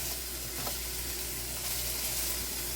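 Beef fried rice sizzles steadily in a hot wok as the pieces brown, a loud, even frying hiss that continues without pause and without talking.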